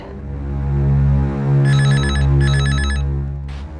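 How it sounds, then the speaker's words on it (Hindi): An office telephone rings in two electronic trilling bursts over a loud, sustained music bed, the rings clear and near. "आप लाइन वन पर राज सर का फोन है"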